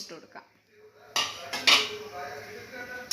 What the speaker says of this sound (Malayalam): അപ്പോൾ നമുക്ക് നമ്മുടെ ഈ പുളിങ്കുരു ഇതിലേക്ക് ഇട്ട് കൊടുക്കാം